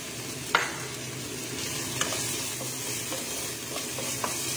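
Finely chopped onion fries in a hot pan with a steady, close sizzle. A few sharp clicks of stirring utensils break through the constant hiss.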